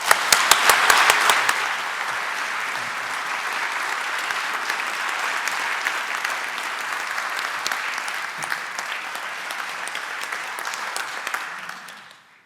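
An audience at a Holocaust memorial lecture bursts into sustained applause to welcome the speaker, a few sharp claps at first swelling into a steady roar of clapping that holds for over ten seconds before fading out.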